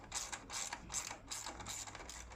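A ratchet and extension loosening 10mm exhaust manifold nuts from underneath a car, heard as close, steady bursts of rapid ratchet clicking with no talk.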